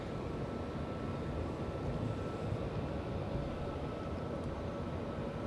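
A Japan Airlines Boeing 777 jet airliner landing at Los Angeles International Airport, its steady broad engine roar sustained and even throughout, moderately distant with no talking.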